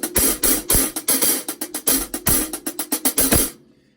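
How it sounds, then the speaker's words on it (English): Drummer plays accented 16th notes on a hi-hat, hitting accents with the stick edge and the softer notes with the tip; a close, dry stream of ticks with louder strokes at regular intervals, then a brief ring-out. "we're going to do your accents on the edge and your non-accents on the tip"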